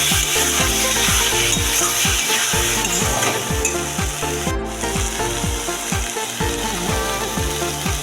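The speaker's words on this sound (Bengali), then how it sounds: "লঙ্কা হলুদ জিরে গুঁড়ো ধরে আমি মশলাটা ভালোভাবে করছি" Chilli, turmeric and cumin masala sizzling and frying in a pan for chicken kosha, with a spoon scraping and stirring in a steady rhythm throughout, close and fairly loud.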